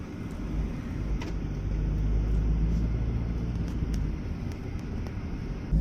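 Car driving along a hill road toward Talakaveri near Brahmagiri Hill, a steady low engine and road rumble with some wind buffeting against the microphone, continuous and fairly loud, no voices.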